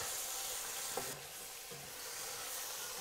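Garlic and meat frying in a pan for Italian braciole, a steady soft sizzle throughout with a couple of faint clinks of stirring, fairly quiet and with no voices.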